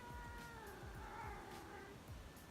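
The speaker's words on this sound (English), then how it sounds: "But she's our little rescue cat." A rescue cat meows and caterwauls in a drawn-out, wavering cry, faint beneath a steady background rumble, with no talking.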